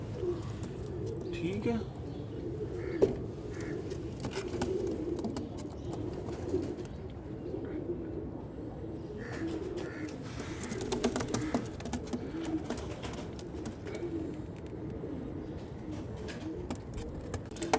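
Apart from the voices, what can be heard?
pair of Ambersary pigeons cooing in a cage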